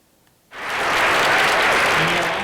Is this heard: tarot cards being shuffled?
no